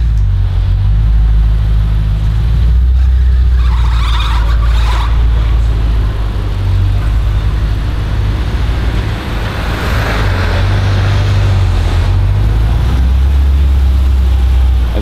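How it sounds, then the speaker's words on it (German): Audi RS4 B7 estate running after a software flash, a loud low engine rumble that shifts in pitch with revs, plus brief higher whooshes. "Also das Gute ist schon mal, Auto läuft immerhin."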